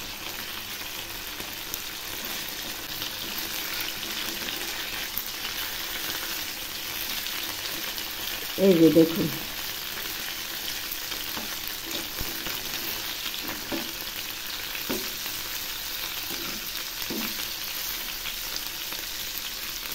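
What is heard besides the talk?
chitol fish frying in a pan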